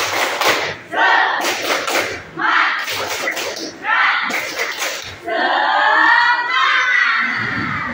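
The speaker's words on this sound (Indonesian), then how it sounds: "Kayaknya kita harus tepuk semangat dulu nih" Schoolchildren in a classroom chant a 'tepuk semangat' routine, rhythmic bursts of loud shouting with sharp claps and thumps, ending in a sustained group cheer.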